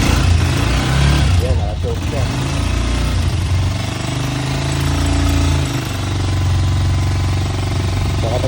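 Honda TMX motorcycle engine running on choke after a kickstart, a loud, steady, rough mechanical rumble with a fast rattling pulse throughout, with no break, while voices talk faintly underneath.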